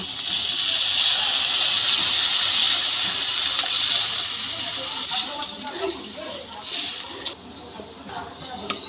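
Water poured into a pan of spiced fried potatoes and figs for dumurer dalna hisses and splashes loudly at first, then settles into a softer bubbling simmer with scattered clatter.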